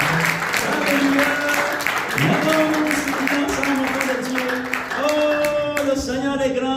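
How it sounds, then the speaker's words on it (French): A church congregation applauds at a morning service, a steady wash of clapping under tonal music and singing voices, fairly loud and continuous throughout. "Donnez une bonne applaudissement au Seigneur ce matin."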